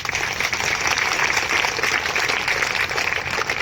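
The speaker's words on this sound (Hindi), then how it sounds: "हाथ उठाकर ऊपर ताली बजाएंगे।" A church congregation claps with hands raised overhead during a worship service. The clapping is dense and continuous, fairly loud and even throughout, with no talk over it.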